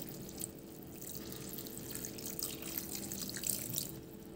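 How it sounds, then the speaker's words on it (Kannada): Water pours and trickles over thin paper poha in a bowl to wash it, a soft, steady splashing and dripping at close range, low in volume and continuous throughout. "ಈಗ ಇದಕ್ಕೆ ಅವಲಕ್ಕಿ ಮುಳುಗೋಷ್ಟು ನೀರನ್ನು ಹಾಕ್ತಾಯಿದ್ದೀನಿ"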